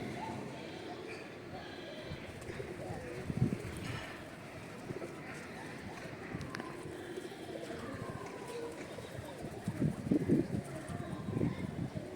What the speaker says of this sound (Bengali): দেখো ছাদের আমাদের ছাদের মধ্যে কত পায়রা বসে আছে